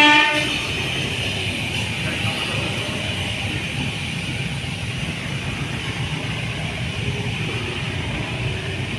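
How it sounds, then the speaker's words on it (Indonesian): A CC203 diesel locomotive shunts at the Balai Yasa Yogyakarta railway works, giving a steady low engine rumble and rolling noise at moderate distance after a brief horn-like tone at the start. "Dan sekarang lokomotif tersebut sedang langsir untuk kembali masuk ke Balai Yasa Yogyakarta."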